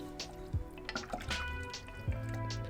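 A pot of miso ramen stock being stirred with a utensil scraping the bottom, giving soft liquid sloshes, drips and a few scraping knocks that come close and steady, with no talking.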